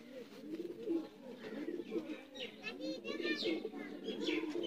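Sialkoti pigeons in a loft coo softly and repeatedly, their low, rolling calls overlapping close by while someone talks over them.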